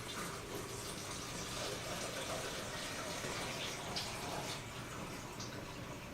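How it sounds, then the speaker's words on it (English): Water poured from a pot into the back of a coffee-making machine, a steady continuous splashing pour lasting several seconds at close range, without talk. "now I'm going to pour it from the pot into the back part of the coffee"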